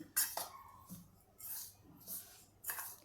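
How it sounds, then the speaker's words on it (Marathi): A spoon mixing sesame seeds and jaggery for a sweet filling, a few light scraping clinks and soft gritty stirs in short separate bursts, close and fairly quiet. "तीळ आणि गूळ आपण व्यवस्थित मिसळून घेणार आहोत"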